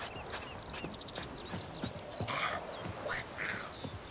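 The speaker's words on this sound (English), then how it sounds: "Nice horse you got there, yo." Horse hooves clip-clop steadily at a walking pace in The Witcher 3 video game, mid-distance, over a bed of bird and duck calls from a village setting, with no speech.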